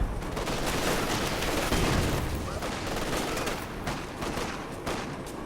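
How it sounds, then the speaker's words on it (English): Heavy artillery barrage in Company of Heroes 2, a dense, continuous roar of gunfire and explosions with rattling shots layered throughout, loud and sustained with no talk. "And Nick's calling heavy artillery down here."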